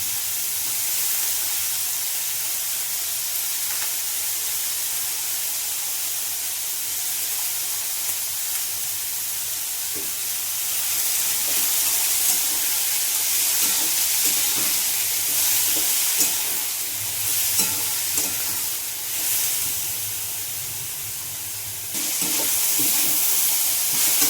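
Guar beans sauté in hot oil with garlic in a kadhai wok, giving a constant bright sizzle and hiss with occasional stirring scrapes, close and steady with no talk.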